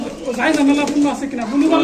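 Pigeons for sale coo in soft, rolling calls close by, mixed with a busy background of people talking.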